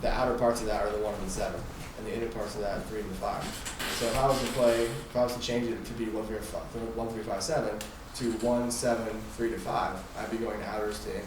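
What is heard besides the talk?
No everyday noises stand out.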